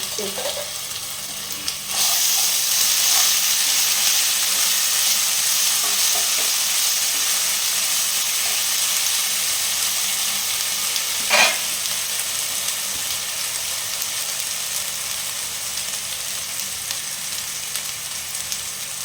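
A spoonful of homemade ginger, garlic and green chili paste hits a hot pan with a sudden loud sizzle. The hiss stays steady and close for a long stretch, with one brief clatter partway through.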